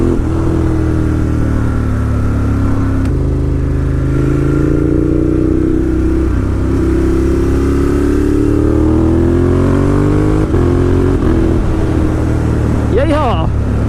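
A 2018 Ducati Monster 1200S motorcycle accelerates hard, engine note climbing steadily through the gears with loud, close, continuous roar and wind rush, a shift dip midway, and a voice talking over it.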